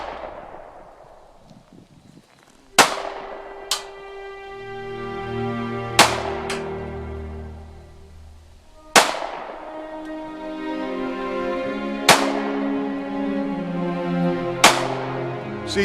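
Rifle shots at an outdoor shooting range ring out as six sharp, loud reports spaced a few seconds apart, each followed by a long reverberating tail.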